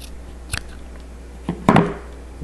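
Scissors snipping the corner of folded material for a crochet doily placemat, with a couple of light clicks followed by one louder crunchy cut, close and otherwise quiet.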